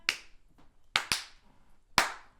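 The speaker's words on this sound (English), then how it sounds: "Clap." Four sharp hand claps, two close together then a pause, fairly faint and alone.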